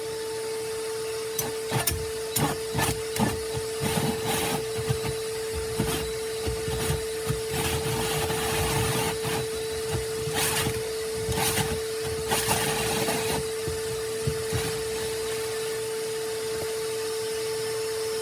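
Hole being cut through house siding in a small knife shop while a vacuum hose runs, a steady loud drone with a constant tone under bursts of rough grinding and cutting, close by and without talk.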